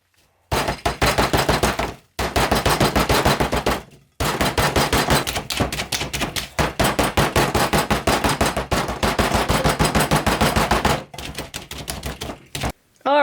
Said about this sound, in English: I'm going to bang it on the table a little bit and work some of those bubbles out.